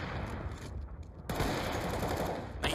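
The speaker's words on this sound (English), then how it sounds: "Kenny S on the AWP. He won't be missing that shot." Gunfire from the AWP sniper rifle in Counter-Strike, during a professional G2 versus North match on the Nuke map, comes as a loud sharp report midway through, with constant game ambience around it.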